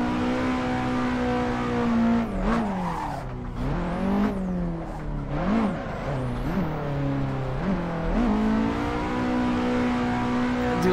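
A Nissan 240 drift car in Assetto Corsa revs hard and continuously, engine pitch sweeping up and down with each clutch kick and slide, tire squeal mixed in, loud and close with no talking.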